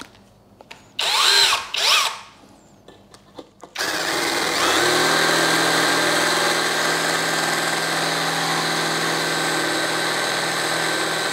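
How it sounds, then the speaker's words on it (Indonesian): A few short drill bursts, then a BULL BL26Li cordless brushless impact drill runs steadily and loudly, boring a hole through material with a larger bit and no pilot hole, without stopping. "Coba saya bikin mata bor yang lebih besar."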